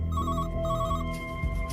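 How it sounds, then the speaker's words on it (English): An incoming call sets off a telephone ring, a loud electronic ringtone repeating in short pulsed bursts, heard close and on its own with no talking. "But soon another call comes in from the same phone."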